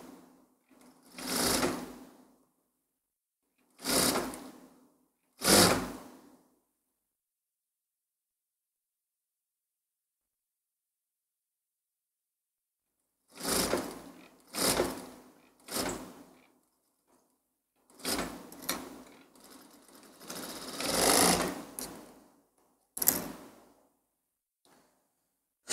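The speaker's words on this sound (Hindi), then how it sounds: "तो पहली सिलाई हम लोग बिल्कुल इसके एज पर लगा देंगे" A sewing machine stitches along the edge of a seam in several short bursts of whirring, separated by long silent gaps, each run loud and close.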